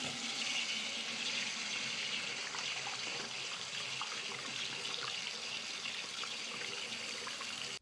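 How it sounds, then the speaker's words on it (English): Tap water runs steadily over a straight razor as it is warmed under the faucet before a shave, a continuous close splashing hiss with small trickling variations and no talking. "I'm gonna go ahead and temper the razor under the water real quick"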